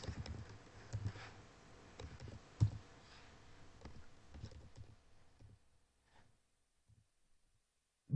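Faint computer mouse clicks, a few soft isolated taps close by in a quiet room, fading toward near silence at the end.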